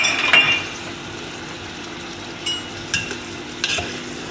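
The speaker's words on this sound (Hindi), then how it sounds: "गोश्त को थोड़ी देर भूनने के बाद मैं तमाम मसाला डाल दूँगी" Bhuna gosht, meat being browned in a pot, sizzles softly and steadily, with a few sharp metal clinks of a spoon against the pot scattered through and no speech.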